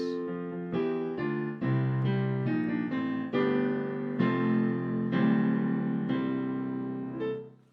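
A second rundown lick from a song played alone on a piano-like keyboard, a steady run of sustained chords stepping downward, close and clear, ending with a fade.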